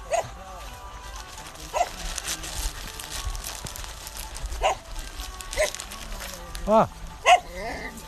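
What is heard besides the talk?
dog barking and whimpering on canal walk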